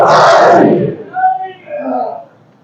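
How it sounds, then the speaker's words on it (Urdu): A crowd at a religious gathering honouring Ali shouts the Nara-e-Haidari slogan in one loud, brief collective burst, then a single voice carries on calling out more clearly. "شیر کی طرح نعرہ لگائے، نعرے حیدری، نعرے حیدری"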